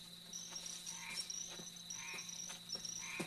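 Frogs croak repeatedly in a chorus, with steady high insect-like trilling and intermittent louder croaks punctuating the background; no voices.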